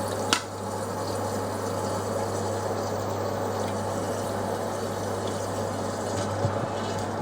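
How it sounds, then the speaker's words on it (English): A Grainfather brewing system's pump switched on to circulate mash liquid at 63 degrees, a steady low electric hum with a constant whooshing wash of flowing liquid, close and even throughout, with a small click near the start. "and we'll turn the pump on."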